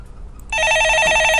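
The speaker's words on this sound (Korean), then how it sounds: "예, 전화 받아보겠습니다." A telephone rings in on a stock market call-in radio show, starting abruptly after a brief quiet pause and then holding as a loud, steady warbling ring.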